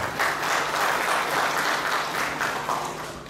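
Audience applause at a National Transportation Day ceremony, a steady wash of many hands clapping together at moderate volume for a few seconds, tapering slightly toward the end.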